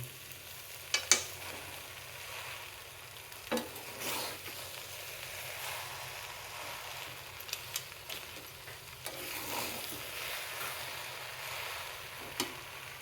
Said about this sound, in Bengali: লাড্ডু করার আগে একটু মৌরি ভেজে গুঁড়িয়ে দেব